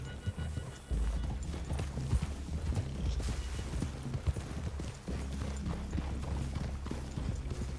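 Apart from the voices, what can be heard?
horses' hooves walking, from a PlayStation video game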